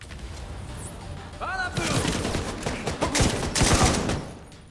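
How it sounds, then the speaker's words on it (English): Video game gunfire and bullets from The Division 2 shooter game, a dense fusillade of rapid shots and crashing impacts building in the second half, loud and close with no speech. "Explosion! And fire! And more explosion! And bullets!"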